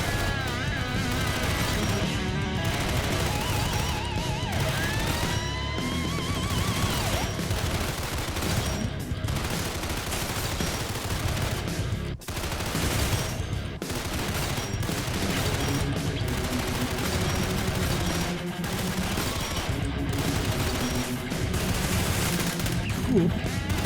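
Repeated gunfire from a custom-built firearm in a shooting game, with rapid bursts and steady volleys running nearly nonstop under a dense, loud mix of clatter and other noise.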